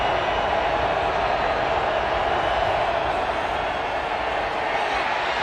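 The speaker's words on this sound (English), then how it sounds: "And here comes the crowd." A steady, broad roar from a packed football stadium crowd at a 2016 college game between Boise State and Utah State, loud and continuous throughout.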